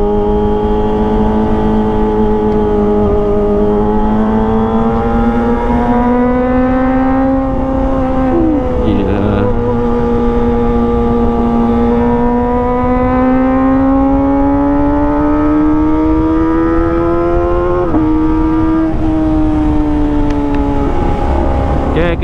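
Kawasaki ZX25R motorcycle fitted with an Arrow Pro Race exhaust, its high-pitched engine droning loudly and close, rising and dipping through continuous revs with a few sharp blips.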